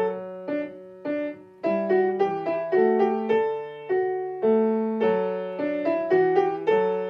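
A two-part minuet in the style of Bach plays on a keyboard, with two interweaving melodic lines. The notes are clear and evenly plucked in a steady dance rhythm, each decaying quickly, with no other sounds.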